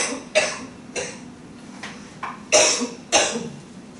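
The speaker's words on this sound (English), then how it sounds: "I feel the chalk in the air, I'm sorry, this makes me cough." A lecturer coughing in a chalk-dusty lecture hall, five separate short dry coughs spaced about half a second apart, close and fairly loud with little else around.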